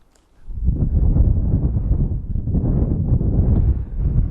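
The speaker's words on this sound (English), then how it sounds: "another thing here is the wind has increased somewhat" Strong wind buffets the microphone on Higger Tor, a gritstone moorland tor in the Dark Peak, as a low, heavy roar that rises abruptly after a brief hush and then holds loud and close, gusting unevenly without any voices.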